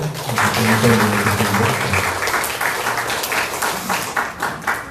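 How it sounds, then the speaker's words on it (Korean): A church congregation applauds in a broad, noisy wash of many hands clapping, with a voice briefly audible at the start before the clapping takes over and gradually thins out. "우리 이준영 목사님 위해서 다시 한번 박수 한번 주실까요?"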